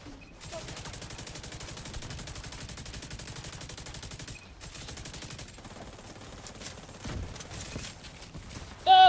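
Sustained rapid gunfire from The Division 2, with overlapping automatic bursts aimed at the player crackling steadily for several seconds. A short pause comes midway, then more scattered shots follow.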